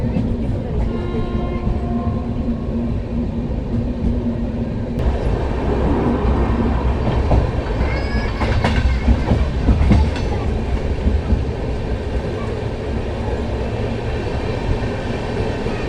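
Amritsar Ajmer Express passenger train slowing as it nears a station, a steady close rumble of wheels and carriage noise with clickety rail joints, louder bursts around the middle, and faint voices underneath.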